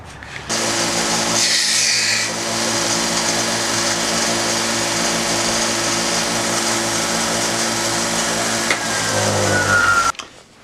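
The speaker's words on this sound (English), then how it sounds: "I sanded it just slightly right through here." A power sander grinds continuously over the wooden roof of a handmade toy car, a loud, even abrasive roar lasting about ten seconds with no talking.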